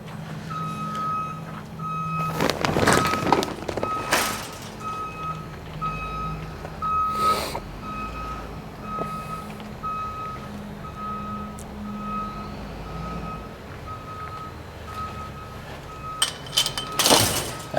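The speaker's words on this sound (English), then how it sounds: "still the tow truck works pretty good" A tow truck's reversing alarm sounds a steady, evenly spaced series of beeps, close and clear, over an engine idle, with a few loud clanks and bangs breaking in along the way.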